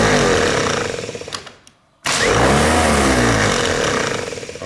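A 1930s Citroen pre-engaged starter motor spins on a bench resting on metal, a loud rattling whir that winds down to near silence, then kicks back in abruptly and runs steadily with a buzzing mechanical drone.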